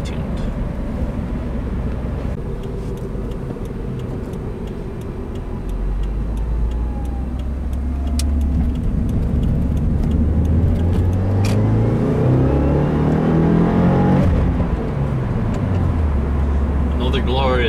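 A 2015 Subaru WRX with a 2-liter direct-injected boxer four pulls hard, its engine note rising through the gears in steady sweeps, close and loud from inside the car under continuous road roar.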